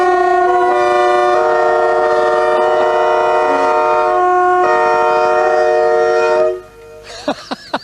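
Loud, sustained train horns blare in a dense chord, shifting once midway, then cut off abruptly, leaving quieter bursts of sound.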